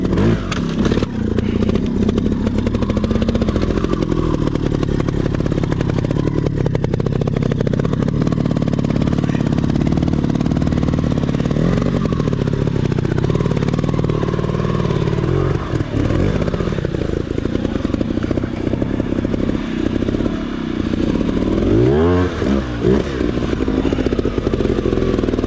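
Trial motorcycle on a trail at Pedra Grande, Igarapé, a loud close engine that revs and labours continuously with rising and falling pitch and some clatter throughout.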